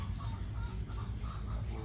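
Chickens at a farm chicken coop, giving soft, scattered clucks in a short burst over low background rumble, fairly close but quiet.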